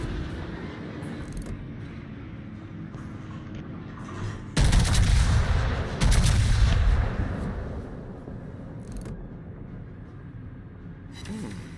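Battleship main guns firing shells in a naval video game with British battleships, heavy booming salvos over a rumbling background, two loud blasts close together mid-clip that fade into a long decaying roar.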